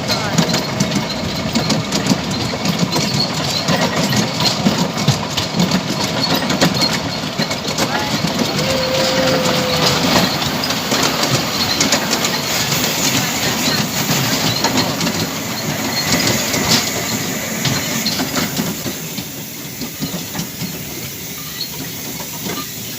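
Continuous rumbling hiss and chuffing of a steam train engine in a train simulator game, loud and steady throughout with rail noise, easing slightly near the end as a voice talks over it.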